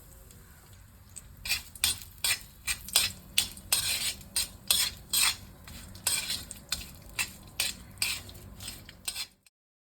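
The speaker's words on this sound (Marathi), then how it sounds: "मग चवीनुसार मीठ घाला आणि हे सगळं छान परतून घ्या" Spoon stirring and sautéing a salted amla pickle mixture in a pan, a run of about fifteen sharp, close scraping strokes in a steady rhythm over a faint sizzle before it cuts to silence.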